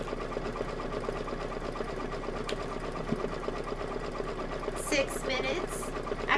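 Embroidery machine stitching out a design, a close steady rapid mechanical chatter running continuously, with a brief higher tone layered in near the end.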